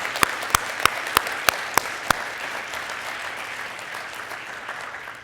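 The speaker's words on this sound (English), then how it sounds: "Let's give a round of applause to all these folks." Conference audience at an academic opening session giving a round of applause, opening with several loud distinct claps before settling into steady, sustained clapping from a sizeable crowd.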